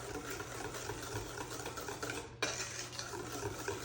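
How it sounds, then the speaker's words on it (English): Apple cake batter of wet ingredients with vanilla being stirred in a bowl, a steady close scraping and tapping of utensil against the bowl, with no talking. "and mix it up"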